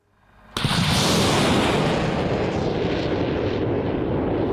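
After a brief quiet, a sudden thunderous blast erupts into a sustained, roaring rush as an American MLRS multiple rocket launcher fires on the Pokrovsk front, loud and close, slowly tapering.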